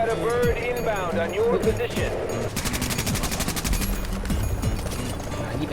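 Automatic gunfire from Tom Clancy's The Division rattles in a steady, rapid stream of shots, loud and near, mixed with game sounds while someone talks excitedly over it.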